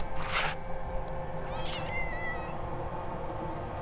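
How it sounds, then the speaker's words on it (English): A cat gives a single clear, drawn-out meow close by, against a steady outdoor background hum. "It's our kitty."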